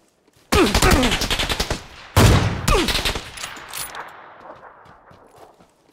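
Automatic gunfire in the battle-royale game PUBG during a 1v1 tournament match: two loud rapid bursts of shots, the first about one and a half seconds long and the second starting just after it, then trailing echo and scattered faint reports.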